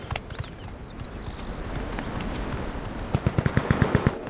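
Automatic gunfire rattles in the video game Cuisine Royale: scattered distant shots at first, then a fast burst of about ten sharp rounds near the end, fairly close.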